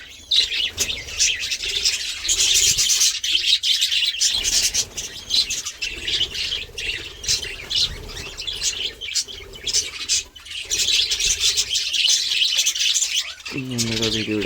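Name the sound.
flock of birds chirping while feeding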